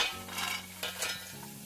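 Tomatoes being stirred into a tikka masala gravy in a pan. Soft scraping and sloshing swirls come in a few close strokes under a low steady hum.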